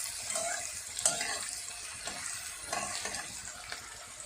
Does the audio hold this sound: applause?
no